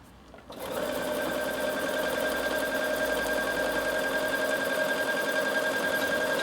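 Bernina sewing machine stitching along a fabric edge: after a brief quiet start, a steady, close, rapid mechanical whirring and needle clatter runs continuously for about six seconds.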